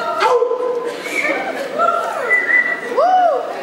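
A man's whistle rising and falling in short sliding phrases, heard close amid the hubbub of a convention crowd with people talking throughout.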